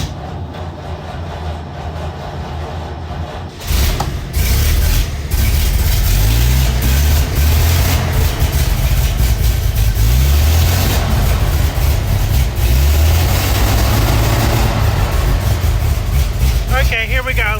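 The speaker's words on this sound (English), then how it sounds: "Let's start the car." A 1929 Buick engine cranks and catches at about four seconds, then runs with a loud, steady low rumble and uneven revving for the rest of the clip, with a brief voice near the start.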